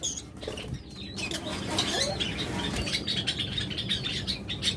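Many small caged birds, budgerigars and lovebirds, chirp and tweet close by, with wings flapping and fluttering against a busy, continuous background.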